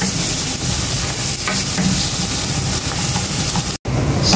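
Butter and garlic sizzle loudly and steadily in a pan for butter shrimp, a dense close crackling hiss with faint stirring; it cuts out for a split second near the end, then resumes.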